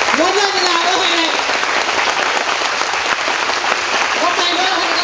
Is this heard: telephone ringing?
no